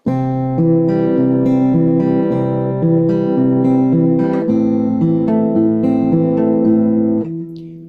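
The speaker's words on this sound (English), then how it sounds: "When you've got that, you're Travis picking." Steady Travis-picked acoustic guitar, with an alternating bass line under melody notes, played evenly for several seconds before ringing out.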